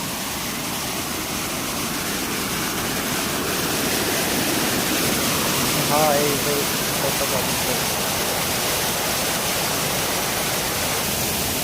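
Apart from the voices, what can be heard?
small waterfall in a flooded river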